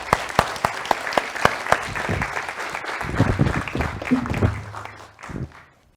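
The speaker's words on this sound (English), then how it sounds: "can we please bring a wonderful round of applause to Dr. Jamila Mahood" An audience at an eye health conference session claps for an incoming speaker, beginning with a few sharp individual claps and swelling into steady applause that fades near the end.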